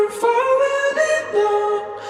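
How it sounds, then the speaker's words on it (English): A sung vocal line pitched up an octave in Logic Pro X's Vocal Transformer, giving a thin, high, slightly synthetic tone as the melody glides between a few sustained notes, close and dry. "taking your original vocal and upping it an octave to make it more high-pitched"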